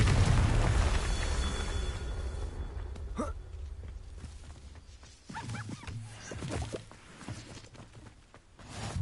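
Magic blasts from spellcasting in Hogwarts Legacy, including the Confringo fire spell, with dull booming bursts and crackling impacts spaced over a continuous game soundscape, while a voice calls out spell names.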